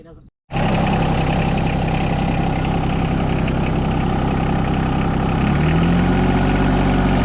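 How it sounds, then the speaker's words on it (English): A John Deere 2210 compact tractor engine cranks and catches after a brief silence, then settles into a steady, loud, close idle with constant mechanical vibration and no talk. "we'll fire her up and see how she runs"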